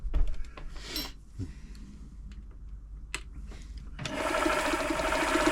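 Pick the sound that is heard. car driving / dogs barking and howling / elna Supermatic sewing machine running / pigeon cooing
elna Supermatic sewing machine running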